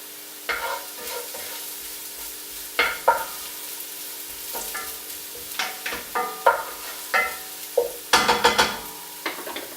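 Almonds are stirred around a frying pan, sizzling steadily while a utensil scrapes and taps the pan in irregular strokes, close and fairly loud.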